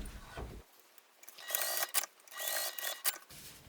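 A sewing machine bastes D-rings onto the exterior of a bag in two short bursts of rapid stitching, close and fairly quiet, separated by brief pauses with faint handling.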